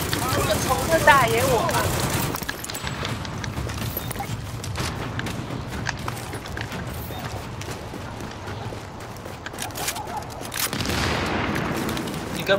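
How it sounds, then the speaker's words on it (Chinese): Light machine gun fire in The Division video game, sustained rapid bursts over several seconds with game noise, while players chat. "这个轻机枪"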